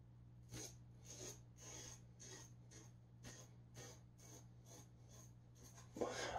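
Razor drawn across skin while shaving in a bathroom: a faint, rhythmic series of about a dozen short rasping strokes over a steady low hum, with a slightly louder scrape at the end.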